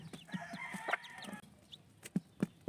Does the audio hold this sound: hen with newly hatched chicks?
yes